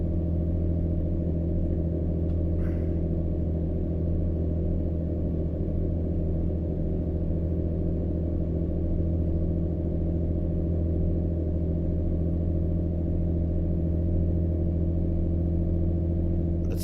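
Heavy-haul truck engine in American Truck Simulator labours up a hill, a steady deep drone with strong low harmonics holding constant throughout, loud and continuous with no shifts breaking the rumble.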